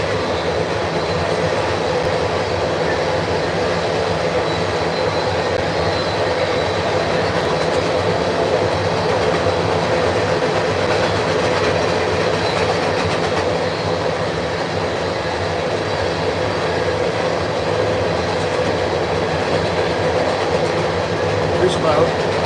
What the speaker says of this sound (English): I'll just wait till the train goes by.